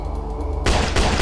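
Burst of gunfire in a zombie apocalypse video game, with sustained loud rapid shots starting partway through over a low rhythmic game background, then a second volley.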